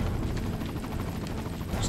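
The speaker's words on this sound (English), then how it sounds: "The most epic part of this game. The helicopter sequence." Helicopter in the Resident Evil 4 video game, a steady loud rotor thump and engine roar filling the whole moment without any talk.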